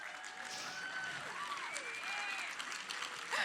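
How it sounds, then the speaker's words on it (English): Crowd applause in the main theatre at Pax East 2022, a steady wash of clapping through the whole clip, fairly quiet and distant, with a few faint voices or whoops rising over it. "I like it when you guys applaud."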